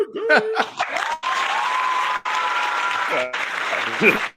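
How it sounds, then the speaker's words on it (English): Audience applause with some laughter, a broad sustained wash of clapping that cuts off briefly twice, with voices and chuckles heard at the start and near the end. "I got to stop the applause."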